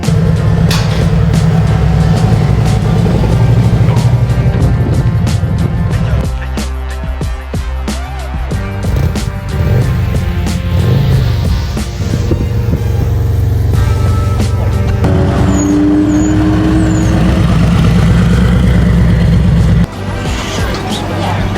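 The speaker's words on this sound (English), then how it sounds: "now that we got this Vance & Hines exhaust system installed, we're gonna take this thing out for lunch" A motorcycle fitted with a Vance & Hines exhaust system rides along, its loud engine droning and rumbling with rising and falling revs and wind noise throughout.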